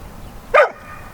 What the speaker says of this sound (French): Prada, Shadow, on aboie